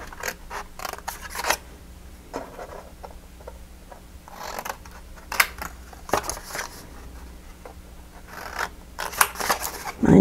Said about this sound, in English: I'm not cutting it off, but I'm cutting up to my second score line